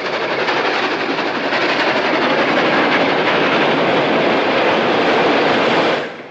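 A steam-era train from 1876 roars along the railroad, a loud, continuous rushing rumble that holds steady for several seconds before tailing off abruptly at the end.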